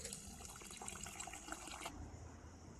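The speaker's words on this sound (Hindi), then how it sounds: "2 लीटर पानी डालेंगे।" About two liters of water poured steadily into a pot of sweetened roasted mango juice, a continuous splashing fill that thins out near the end, quiet and close with no talking.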